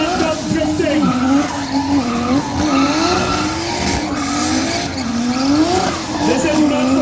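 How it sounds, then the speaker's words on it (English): Cars drift at a big drift event in Trinidad, tires squealing in long, wavering screeches over revving engines, loud and close, while people talk over the noise. "this guy is what is called phantom drifting"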